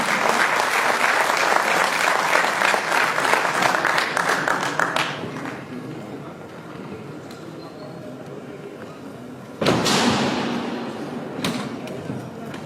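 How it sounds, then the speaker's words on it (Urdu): An audience at a World Pharmacist Day 2023 event applauds to welcome a speaker, a full, loud burst of clapping that fades after several seconds into a quieter room with voices, then a sudden thump near the end. "آپ کی بھرپور تالیوں میں محترم عنایت اللہ خان صاحب۔"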